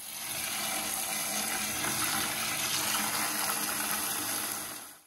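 Water runs in a steady, continuous rush while hydroponic pebbles are rinsed, a close, moderately quiet splashing flow that holds evenly for several seconds before tapering off, with no talking.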